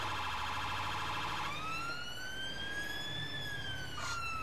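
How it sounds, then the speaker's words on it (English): A Mercedes Sprinter ambulance siren on a blue light run, loud and close, switching from a fast warble to a slower rising and falling wail partway through. "Another change of siren tones here"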